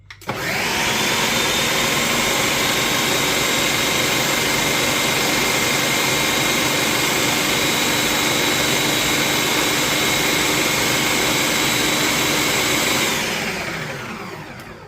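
A blender purees tomato sauce in a kitchen, a loud, steady motor whir with a high whine that holds for about thirteen seconds before winding down.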